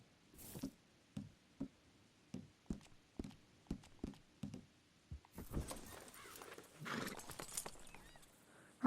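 Horse hooves in Red Dead Redemption 2, with evenly spaced clip-clop strikes repeating close and clear at a steady rhythm, then giving way to a busier, louder rush of galloping and rustling noise.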